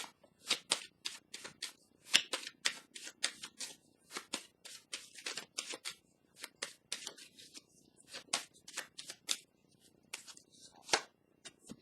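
Tarot cards are shuffled and drawn by hand, a long run of crisp papery riffles, slaps and flicks arriving in quick irregular bursts, close and clear with no talking.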